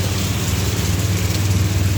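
A steady, loud downpour of heavy rain roars around a parked motorcycle in Binangonan, broadband hiss over a constant low rumble, unbroken and without speech.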